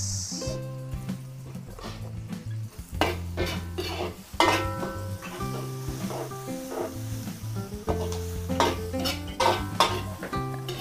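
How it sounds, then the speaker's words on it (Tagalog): Onions sauté with garlic in a pan for a Filipino fiesta dish, a utensil scraping and clattering against the metal in irregular strokes over a soft sizzle, with tonal background sounds underneath. "Gagisahin lang po natin yung ating sibuyas."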